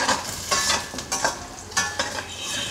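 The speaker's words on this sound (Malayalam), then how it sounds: "ഇപ്പോൾ നോക്കിയാലറിയാം ഇത് കുറച്ച് കലകല ശബ്ദം വരുന്നുണ്ട്" Raw plantain slices roasting in a pan for nenthrakkaya varutha erissery crackle loudly and close, in repeated bursts as they are stirred, with scraping of a spoon against the pan and no talking.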